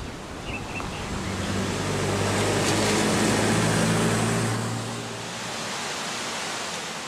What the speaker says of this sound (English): numerous spectacular waterfalls hurtle down the plateaus through the basalt